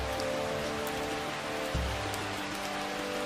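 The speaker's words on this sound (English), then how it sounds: "Their sensitive hearing amplifies the sound of rain on leaves, making insect hunting nearly impossible." Steady rain patters on forest leaves, a dense continuous hiss of drops with a low background hum and no voices.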